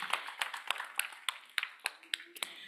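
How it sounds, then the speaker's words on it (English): Scattered claps at an event, probably a youth performance competition, come as a sparse, uneven patter of individual hand claps over a few seconds, fairly faint and distant, with voices in the background. "Give them a round of applause, please."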